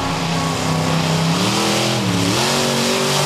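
Monster trucks racing around a track at Charlotte Motor Speedway, engines roaring loud and continuous with pitch rising and dipping as they rev and shift, no voices over them.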